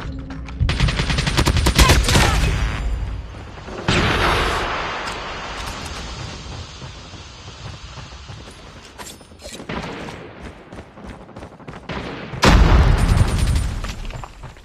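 KN-44 rifle fire in a video game battle crackles in rapid automatic bursts, loud and close, with heavy volleys at the start and near the end and quieter scattered shots and pauses between.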